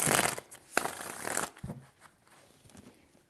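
Tarot cards being shuffled by hand, a couple of loud, crisp riffling bursts up close followed by quieter handling and soft taps.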